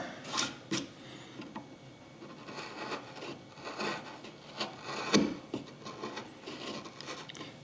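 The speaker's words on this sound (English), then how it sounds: "Like the back end of the chisel here, I'm just kind of keeping it right in the cut" A wood chisel carving a cut in wood for a lakeshore cabin landscape, producing soft scraping and rasping strokes at close range, with irregular bursts and one sharper crunching push partway through, no talking.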